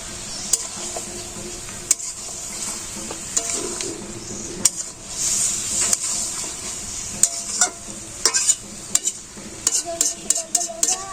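Spicy mutton sizzles in a pan as a metal spoon stirs it, a steady frying hiss under repeated sharp scrapes and clinks against the pan, close and fairly loud.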